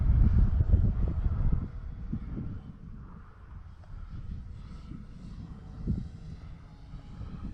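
An Avios King Twin RC model airplane makes a low pass, heard as a distant droning engine hum with wind noise. The hum is loudest at the start and stays fairly faint after that.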